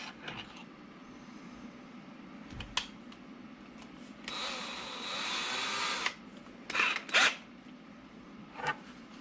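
A power drill with a small bit bores into the plastic lid of a Tippmann A5 paintball box magazine. A loud, steady whine runs for about two seconds, then a few shorter bursts follow, with no talk.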